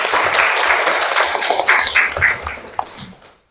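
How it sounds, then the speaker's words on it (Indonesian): A classroom of students bursts into sustained applause for a classmate, dense and lively clapping carrying on for about three seconds before fading out. "tepuk tangan untuk Erta."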